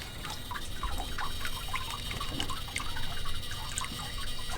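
Fluorescent dye poured into water near a removed dishwasher, a steady close pour with splashy trickling and bubbling drips over a constant low hum.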